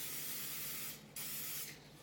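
Non-stick cooking spray hissing from a can into pans, two loud continuous sprays separated by a short pause, close and with no voices.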